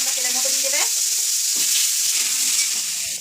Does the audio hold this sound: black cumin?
yes